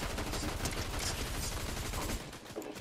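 Gunfire rattles in a Fortnite match, a rapid stream of close cracking shots running almost without pause for about two seconds before easing off.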